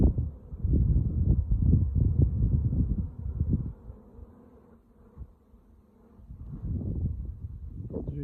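Close, low droning buzz of many honeybees swelling and fading, loud at first, dipping quieter midway, then rising again.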